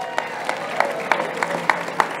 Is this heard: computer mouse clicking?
no